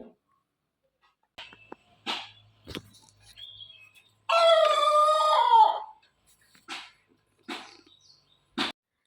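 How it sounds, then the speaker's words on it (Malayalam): A black rooster crows once, loud and drawn out, in the middle, surrounded by scattered clucks and faint clatter before and after, in a Wayanad village. "കരിങ്കോഴിപ്പൂവൻ കൂകുന്നതാട്ടോ കേട്ടത് അവൻ കൂകി തുടങ്ങിയതേ ഉള്ളൂ"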